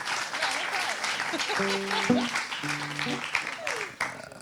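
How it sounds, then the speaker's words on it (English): Clapping from the crowd at the WZO UK Summer Party 2021, a moderate spread of applause over several seconds, mixed with voices and a brief hum of tones partway through. "Another round of applause, I should say."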